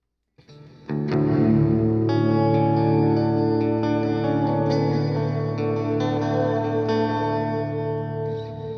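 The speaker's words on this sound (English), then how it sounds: "So let's turn up the echo level. This should just turn up the volume of the reverberation." An electric guitar sounds a sustained chord through a Boss reverb pedal set with a high echo level, the notes swelling into a dense, washy reverberant tail that rings on steadily and fades only slightly.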